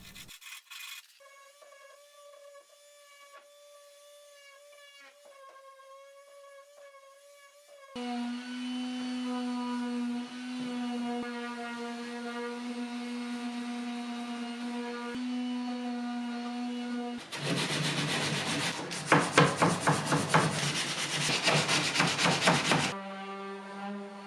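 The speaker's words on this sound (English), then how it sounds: "the most time-consuming part of this project was sanding these legs down" Steady sanding of wooden furniture legs with a constant humming drone, quieter at first, then fuller, with a harsher, louder rasping stretch near the end.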